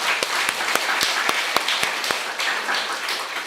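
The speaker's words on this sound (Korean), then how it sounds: "큰 박수 올려드리면 좋겠습니다" An audience at a religious gathering claps in a dense, steady wave of applause, with several sharper individual hand claps standing out near the front.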